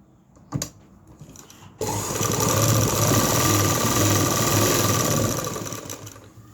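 A sewing machine runs steadily, stitching a fitting seam on a kameez near the hip with back-stitching, a continuous close mechanical whir after a brief knock at the start.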